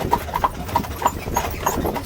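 Horses' hooves clip-clop at a steady walking rhythm on an Amish farm in Lancaster, Pennsylvania, each hoof strike crisp and fairly close, with faint background talk.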